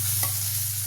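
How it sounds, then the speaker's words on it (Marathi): Onion sautéing in a pan, a steady close hiss of frying over a constant low hum, with one brief tap or scrape partway through. "कांदा चांगला परतत आला"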